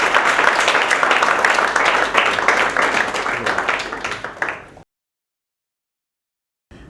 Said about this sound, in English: can we give Tony a round of applause?